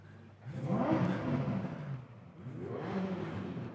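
A Ferrari 488 Pista engine fires up at an outdoor car event, a close, throaty roar that surges, dips briefly and then swells again.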